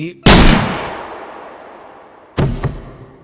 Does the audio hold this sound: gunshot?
yes